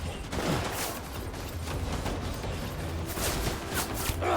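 Enemies shooting in the video game Death Stranding, a continuous dense rattle of distant automatic gunfire with scattered louder cracks, moderately quiet and steady throughout.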